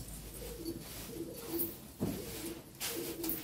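Pigeons coo softly in a repeated low, throaty rhythm, with a few rustles and faint background noise between the calls.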